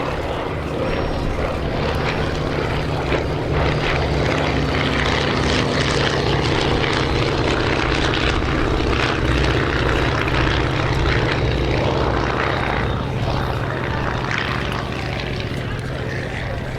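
Avro Anson Mk.I twin-engine propeller aeroplane with a metal wing, painted as a wartime RAF Coastal Patrol machine, flying at an air display; a steady, loud engine drone with broadband propeller roar continues throughout.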